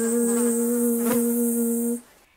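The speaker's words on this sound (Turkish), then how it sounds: "Arı değil mi? Nasıl çıkarıyor sesi?" A steady, droning insect buzz with a strong hum, continuous for about two seconds before cutting off abruptly.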